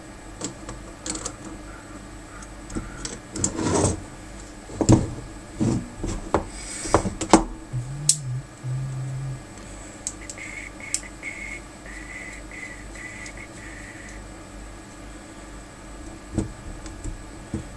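Small bolts and nuts being snugged up on a RepRap Huxley 3D printer frame, close soft metallic clicks, scrapes and rubbing in short irregular bursts, then quieter handling with faint tonal whines, no talk.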